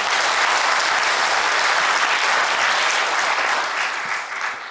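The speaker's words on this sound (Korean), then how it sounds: "다시 한번 박수를 좀 보내드리겠습니다" A church congregation at a worship service applauds after the sermon, a full, sustained wash of clapping from many people that stays loud before easing slightly at the end.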